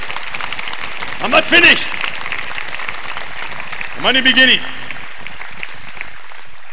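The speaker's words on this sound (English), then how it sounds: "let's give them another clap" Audience clapping at a Bible-themed preaching event in Fort Smith, Arkansas, running steadily in the background while someone speaks loudly over it in two bursts.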